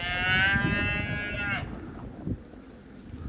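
A cow on a farm lets out a loud, drawn-out moo for about a second and a half, then quieter farmyard rustle and a soft thump follow.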